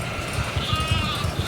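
Sheep in the video game The Alters give quick, repeated bleats in a short run, close and moderately loud over a steady background hum.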